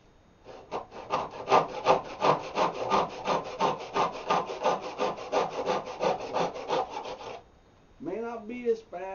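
Hand saw cutting wood in a miter box for swing seat cross braces, a steady run of rhythmic back-and-forth rasping strokes up close for about seven seconds, then a brief voice begins.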